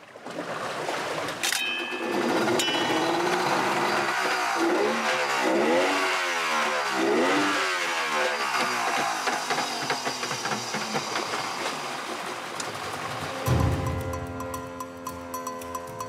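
Engine of a Senegalese fishing boat at sea, running after it has taken in water: a loud, steady motor drone that wavers in pitch and roughens toward the end.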